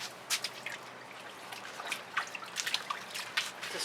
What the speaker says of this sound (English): now's my opportunity to rinse my hands off first